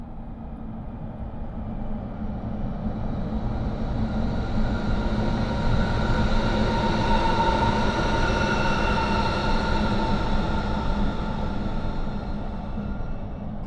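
A train rumbles past in Train Simulator 2020 on the London Baker Street line, a long steady roar of wheels and rails that swells to a peak midway and slowly fades, with no talk.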